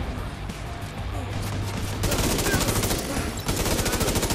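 Sustained automatic gunfire in The Division 2 while defending an outcast compound, dense rapid rattling bursts that grow louder partway through and keep going with only brief gaps.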